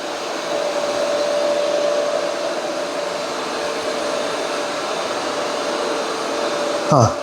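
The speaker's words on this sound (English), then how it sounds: "here's how the Yeedi is mopping this concrete" A Yeedi M14 robot mop working across a concrete floor gives a steady whirring motor drone with a faint tonal hum, continuous and close, ending in a brief bump.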